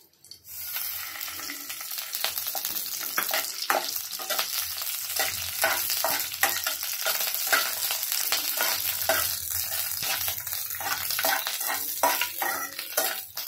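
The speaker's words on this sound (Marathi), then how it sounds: "आता आपण मिरच्या टाकून भाजून घेणार आहे। आपण ह्याच्यात थोडं तेल टाकूया।" Chillies roasting in oil in a pan, a continuous sizzle and frying crackle with repeated scraping stir strokes, close and fairly loud throughout.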